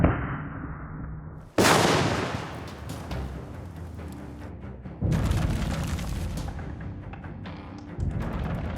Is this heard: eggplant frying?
no